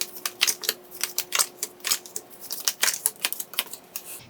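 Tarot cards are shuffled and drawn at a close table, giving quick dry papery flicks and snaps in an irregular run over a faint steady hum, with no speech.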